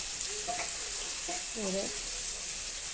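Green chillies sizzle in hot oil for aloo dum in a village kitchen, a steady hiss and crackle with faint voices murmuring in the background.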